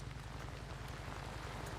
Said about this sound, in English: it's raining a little because darkness and rain brings out the freakers.